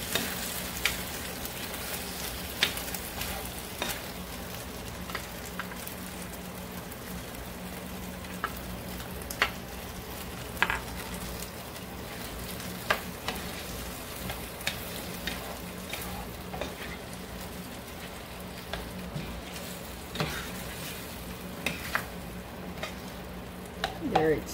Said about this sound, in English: so now we add our